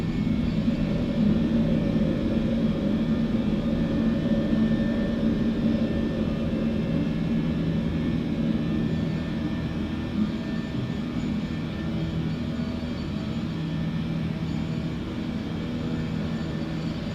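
Fenix Airbus A320 jet engines at climb thrust in Microsoft Flight Simulator 2024, a steady, even cabin-style engine drone with a low hum, unbroken and moderately loud for the whole stretch without talk.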